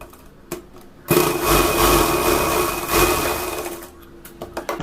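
A simple sewing machine stitches a folded blouse strip, running in one continuous whirring burst of about three seconds between a few quiet clicks and handling sounds.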